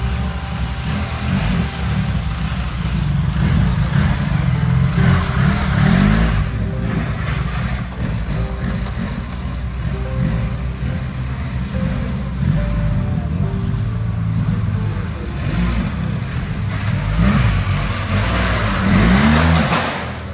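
A BMW motorcycle engine is worked off-road at an enduro park using only clutch and throttle. It hums and revs steadily and loudly for the whole stretch, with small rises and dips in pitch and no talking.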